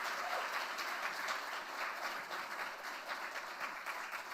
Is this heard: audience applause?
yes